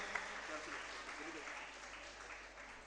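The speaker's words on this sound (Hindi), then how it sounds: "तालियां बजाकर अभिनंदन।" Faint, distant clapping from a gathering at a Jain religious discourse and darshan session, a soft continuous patter of hands welcoming guests over a few seconds.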